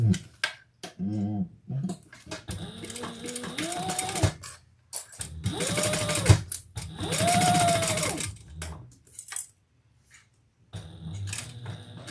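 Sewing machine top stitching a handbag in several bursts of whirring stitches with rising pitch, separated by short pauses and small clicks, close and fairly loud with no talking.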